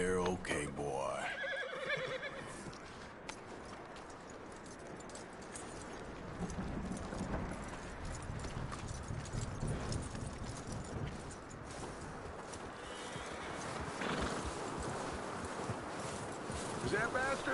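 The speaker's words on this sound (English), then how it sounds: "That looks like a decent horse. You should keep him. Get that horse hitched. Don't want him bolting." A horse in Red Dead Redemption 2 whinnies loudly, then walks with steady clip-clop hoofbeats amid wind and outdoor ambience, with voices talking over it.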